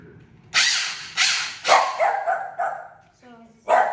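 A pet dog barks sharply in a rapid series of loud, close barks with short pauses and a brief whine, reacting to a battery-powered electric weed eater on a homestead.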